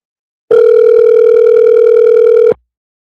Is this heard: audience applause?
no